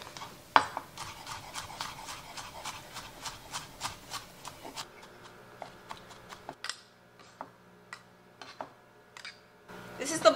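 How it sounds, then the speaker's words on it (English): A knife chops peeled garlic on a cutting board in a home kitchen, tapping out a quick, even run of close sharp knocks that slows into scattered taps with a few louder clacks, with no talking. "Now we get to chop it all up."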